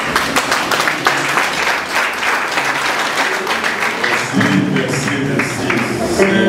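A congregation at a church wedding gives the group a burst of general applause, loud and close, with dense continuous clapping that carries through to the end, joined by a few voices near the finish.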